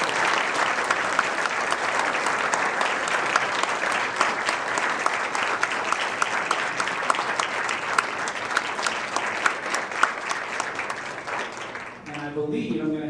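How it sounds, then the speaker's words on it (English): An audience at a school event gives sustained, steady applause for its music students, a dense wash of clapping that goes on for about twelve seconds before fading out as a voice begins. "Let's have a round of applause for all of our music students."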